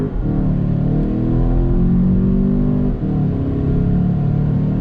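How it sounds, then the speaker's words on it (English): A 2019 VW Jetta GLI S with a DSG gearbox accelerates hard, its engine note rising steadily and dipping briefly at a quick gearshift around three seconds in before climbing again, loud and close from inside the cabin. "acceleration, drop on the loud pedal"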